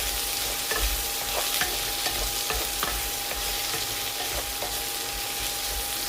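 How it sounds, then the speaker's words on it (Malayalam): Okra stir-fry being stirred in a dry steel pan, a steady soft sizzle with repeated scraping strokes of the spoon against the metal, close and continuous with no talking. "ഇത് വെള്ളമൊന്നും ചേർക്കാത്തതുകൊണ്ട് നമ്മൾ ഇതിനകത്ത് ഇളക്കി കൊടുക്കണം"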